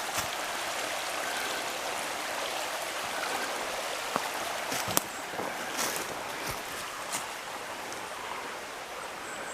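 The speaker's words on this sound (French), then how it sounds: "Alors il y a plein de petits ruisseaux." Small streams trickling along the Léguer river at Coat an Noz, a steady broadband wash of flowing water with a few faint clicks and knocks, no voices.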